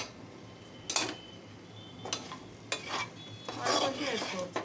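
A spoon scrapes and stirs spice powder through an ivy gourd fry in a pan, giving a few soft, close clatters over a faint background sizzle, with no talking.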